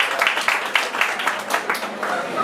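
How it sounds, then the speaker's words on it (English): Audience round of applause at a film festival panel, a short burst of uneven clapping from a modest crowd, with some speech mixed in underneath. "Give a round of applause."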